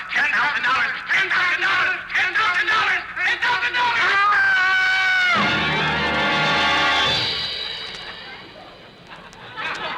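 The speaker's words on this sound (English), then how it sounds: "Did that scream frighten you" A loud, sustained scream rises and holds for a couple of seconds, then fades out, following a stretch of busy, overlapping talk.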